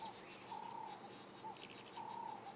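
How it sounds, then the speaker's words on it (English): An African hoopoe calls at a dawn safari, soft low hooting notes repeated in a slow rhythm at moderate distance, with faint higher chirps from other birds. "There's an African hoopoe."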